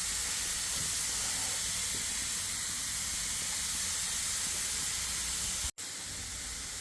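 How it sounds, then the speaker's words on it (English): Steak searing on a hot grill gives off a steady, even hiss of sizzling fat and steam that holds without change, apart from a brief dropout near the end. "now we're gonna add our steak on our grill"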